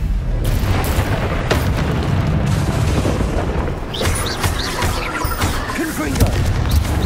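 Confringo fire spell blasts in Hogwarts Legacy, a series of booming fiery explosions with crackling impacts and whooshing tails, loud and continuous throughout amid game effects.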